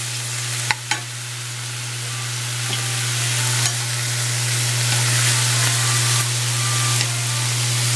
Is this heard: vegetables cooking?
yes